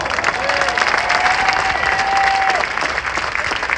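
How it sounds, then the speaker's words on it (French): A large crowd at a street protest against the mandatory green pass claps continuously, dense loud applause filling the whole stretch, with a faint whistle tone running through the middle. "On peut les applaudir très fort."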